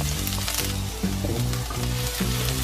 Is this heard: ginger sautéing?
yes